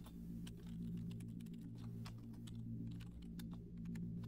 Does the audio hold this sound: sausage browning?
no